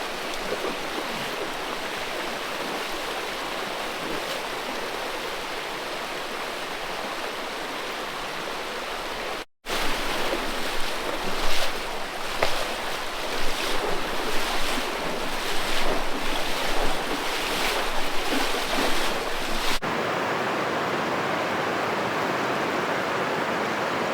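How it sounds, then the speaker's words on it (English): River rapids in Wadi Al Hasa, a continuous loud rush of flowing water with some wind noise, broken by one brief cut, steady throughout with no voices. "It's like a little rapid section we're having to go through"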